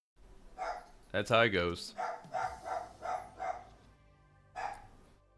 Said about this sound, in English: we got a feral dog barking in the background